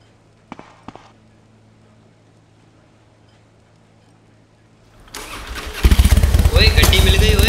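A motorcycle engine bursts into life after a quiet stretch, a loud, rough start that keeps running to the end, preceded by a couple of faint footstep-like knocks.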